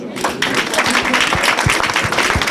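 Applause from an award-ceremony audience for a Brussels person-of-the-year honour, a dense steady patter of many hands with some mixed voices, sustained and fairly loud throughout.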